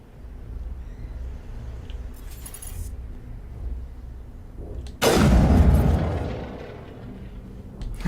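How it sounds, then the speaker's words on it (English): A grenade goes off in Mass Effect Legendary Edition: one loud, broad boom bursts in midway and rumbles away over a couple of seconds, after a low hum of game ambience. "And that was a grenade that I just threw"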